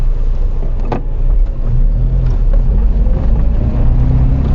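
Datsun Violet driving around urban streets, a steady low engine drone and road rumble that holds even throughout, with no voices.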